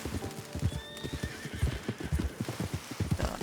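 Horse hooves clip-clop steadily in Red Dead Redemption 2, with a horse whinnying and neighing partway through, close and fairly loud throughout the ride.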